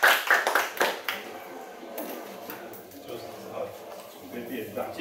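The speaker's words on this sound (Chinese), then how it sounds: "以热烈的掌声感谢张老师的精辟的演讲" Audience applause thanking a lecturer after a talk on Islam in China: a burst of clapping at the start that fades within about two seconds. Scattered voices and small noises follow in the room.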